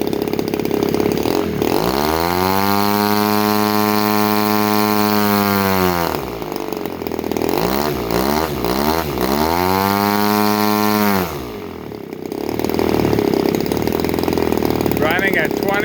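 Early Zenoah-based Roushe Cobra 2.3 cubic inch RC gas engine swinging a 20x8 prop, running loud and steady with a harsh buzzing drone that dips and rises twice as the throttle is eased back and opened again.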